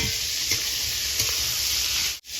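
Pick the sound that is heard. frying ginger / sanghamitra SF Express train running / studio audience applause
frying ginger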